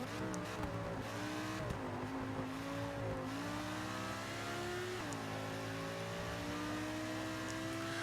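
In a racing video game, a Lamborghini race car engine holds a continuous, faint, mid-pitched roar. Its pitch rises and drops repeatedly as the car accelerates and shifts, with several engines layered and no talking.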